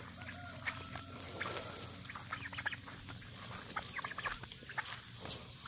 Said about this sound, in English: I hear turkeys down in there.